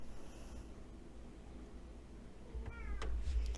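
A pet cat meows a few times near the end, loud and close, after a stretch of quiet room noise.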